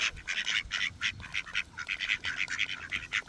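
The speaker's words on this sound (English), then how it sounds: "The geese and the ducks are out. These ducks always come over to me." Ducks quacking close by, with geese nearby, outdoors on a morning walk: a steady run of rapid, raspy quacks in short bursts, loud and near with no talking.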